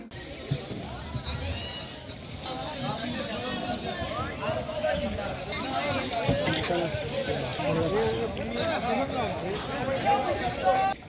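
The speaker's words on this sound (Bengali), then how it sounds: "অবশেষে এসে পৌঁছিয়েছি ভীমরুলি ভাসমান পেয়ারা বাজারে" Wooden boats knock and paddles splash at the Bhimruli floating guava market in Bangladesh, where farmers sell guavas straight from their boats; a busy, continuous bustle with people talking nearby throughout.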